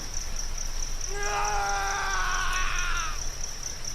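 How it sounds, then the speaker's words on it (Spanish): A woman lets out a harrowing, wavering scream lasting about two seconds, moderately loud over a steady hiss and a high tone in the background. "Ella lanzó un desgarrador grito"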